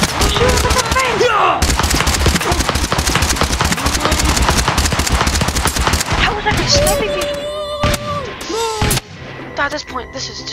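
Video game battle gunfire crackles in dense, rapid volleys of overlapping shots, loud and continuous, then thins into scattered bursts and a few sharp booms near the end, with game sounds mixed in.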